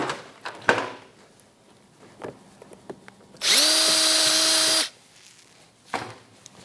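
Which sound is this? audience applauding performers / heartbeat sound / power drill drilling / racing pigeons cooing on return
power drill drilling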